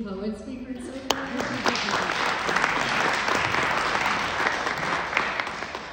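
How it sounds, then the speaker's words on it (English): An audience at a poetry reading breaks into applause for the poets, starting thin and swelling into a dense, sustained clapping that stays fairly loud throughout, with a faint voice near the start. "can we please get another round of applause for all the amazing poet speakers so far?"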